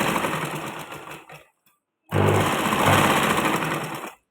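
Sewing machine stitching in steady bursts, loud and close, running for about a second and a half, pausing briefly, then resuming for another two seconds; no talking.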